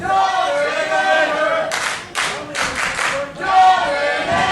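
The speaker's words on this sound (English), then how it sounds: "You can hear this crowd again." A wrestling crowd at a British Commonwealth title match cheers loudly, then bursts into bursts of rhythmic clapping before the roar swells again, with a commentator talking over it.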